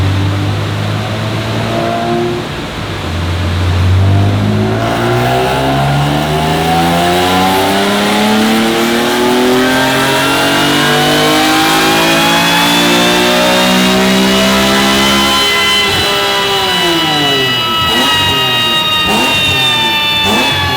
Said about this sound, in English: This is E46 M3 track car.